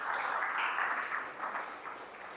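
A church congregation claps together during a service, a dense and even wash of applause that sounds a little distant and stays steady for a couple of seconds, with no voices over it.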